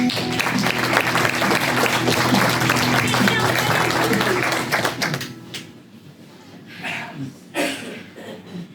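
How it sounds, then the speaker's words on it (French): Studio audience of a television game show applauding loudly and steadily for about five seconds, then the clapping stops abruptly, leaving quieter room sound and brief voices. "on accueille Michel et Monique, on les applaudit"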